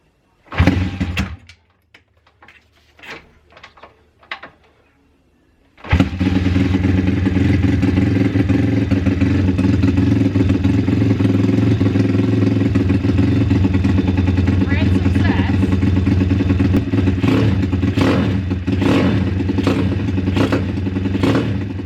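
A pit bike being readied for a four-hour endurance moped race is cranked a few times, then fires up and idles steadily, loud and close, with the engine note rising and clattering through blips of the throttle.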